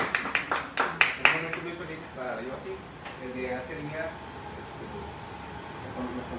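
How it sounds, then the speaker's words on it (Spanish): A short run of loud, quick claps for a young fan at an event with a performer, about seven sharp claps in the first second or so, then fading under a Spanish-speaking voice that keeps talking. "¡Bravo! ¡Aplaudale!"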